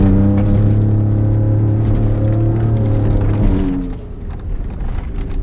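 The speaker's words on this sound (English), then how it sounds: "Okay, those blow off valves quite a bit." A 2019 Ford Raptor truck accelerating hard: a loud, close engine roar with a steady rising drone, then a drop in level near the end as the blow-off valves release.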